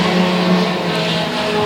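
Race cars in the Combined 4s class roar off at the green flag start at Sauble Speedway, a loud, dense, continuous engine drone from the whole pack held steady throughout.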